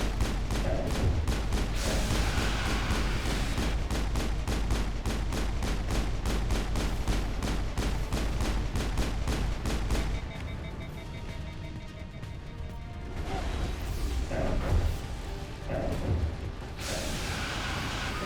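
Rapid bursts of weapon gunfire in Mass Effect, a long sustained volley of evenly spaced loud shots followed by scattered shots and impacts in a combat scene.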